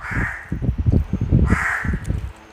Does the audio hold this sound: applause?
no